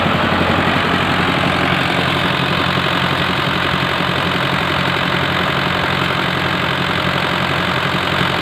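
An engine idles steadily and loudly at a tent-house and DJ light setup, a continuous low rumble with a slight knocking throb that holds unchanged throughout, with no voices over it.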